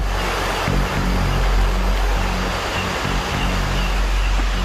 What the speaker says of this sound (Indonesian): hanya terdengar suara gemericik air